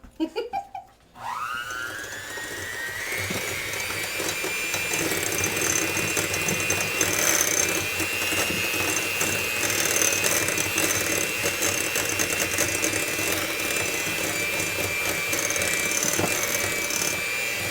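An electric mixer whirs continuously at close range, a steady mechanical drone with a grinding edge as it whips a thick mixture of reconstituted powdered cream cheese for cheesecake.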